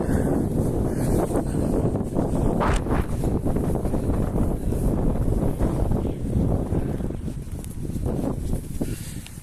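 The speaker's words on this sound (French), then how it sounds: "Et avant, ça va, il y a du caractère le vent." Strong gusting wind roars steadily against the microphone on an outdoor walk under rain clouds, a rough broadband rumble with no voices.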